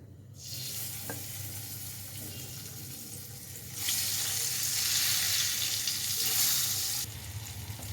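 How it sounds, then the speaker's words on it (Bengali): Eggs fry in a pan for a Bengali egg posto dish with a steady close sizzle and crackle. The sizzle swells louder for a few seconds in the middle and then settles back. "এই যে ডিমগুলো আমি ভাজতে বসিয়ে দিয়েছিলাম ডিমগুলো একটা সাইড ভাজা হয়ে গেছে"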